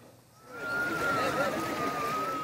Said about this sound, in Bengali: মেঘনার তীরে ছুটে আসছে একের পর এক ট্রলার।